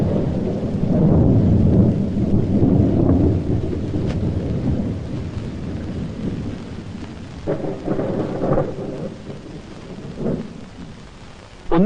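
Heavy rain pours steadily with deep rolling thunder rumbling through a thunderstorm, loud and enveloping, with no voices.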